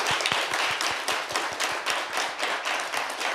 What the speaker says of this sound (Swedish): En stor applåd till er